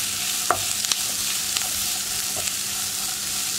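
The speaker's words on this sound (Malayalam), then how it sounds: "ഇനി സവാള ഒന്ന് കുക്കായി വരട്ടെ, ഒന്ന് ബ്രൗൺ ആയി വരുന്നത് വരെ ഇളക്കിക്കൊണ്ടിരിക്കണം." Sliced onions fry in a pan with a steady, bright sizzle while a utensil stirs them, giving a few light scraping knocks against the pan.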